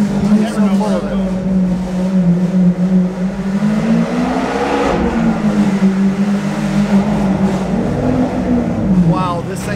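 A Lamborghini revving hard inside a parking garage, a loud sustained engine note rising and falling in pitch across several surges, with the enclosed space adding boom, and voices talking over it.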